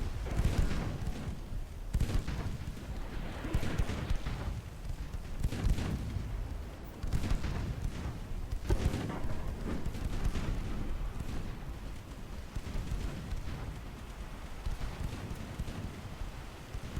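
A warship's 3.9-inch naval guns fire in a battle with destroyers in Ultimate Admiral: Dreadnoughts, a series of fairly faint, distant booms spaced a second or two apart over a steady wash of wind and sea noise.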